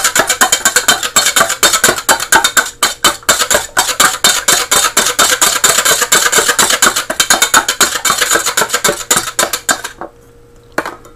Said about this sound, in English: I have to whisk the egg until it's fluffy.